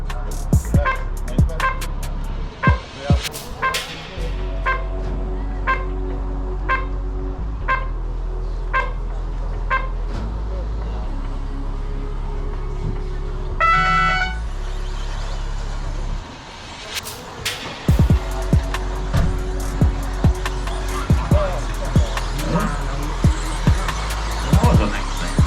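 1/10 scale two-wheel drive RC cars race in the A final at a new track, their high electric whine rising and falling as they pass, with steady crowd and track noise underneath.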